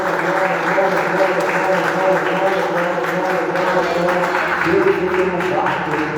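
A church congregation claps for Jesus during worship, steady sustained applause layered over voices and musical tones, loud and continuous for several seconds.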